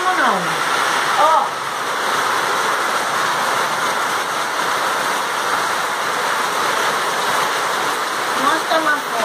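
Heavy rain pours steadily outside as a dense, continuous roar filling the whole stretch. People talk faintly underneath it.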